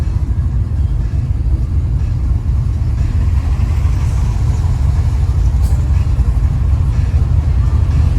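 A 1972 Chevrolet Nova with a big block engine rumbles steadily from inside the car while cruising, a loud, deep, continuous drone with no clear revving.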